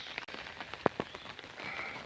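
Morning rain falls on paddy fields, soaking the rice crop, a faint soft patter with a couple of sharper drips standing out near the middle.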